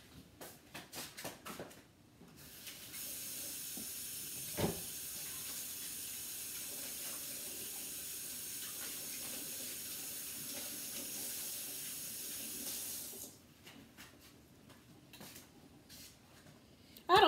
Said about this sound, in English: Wash my hands because I got salmon hands now.